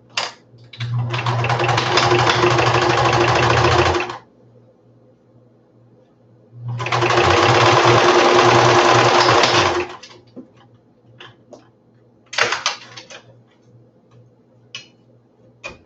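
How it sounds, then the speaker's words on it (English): A sewing machine stitches costume butterfly wings together in two long, steady whirring runs of about three seconds each, separated by a quiet pause, followed by a few short clicks and taps. "Right now, I am stitching the wings together."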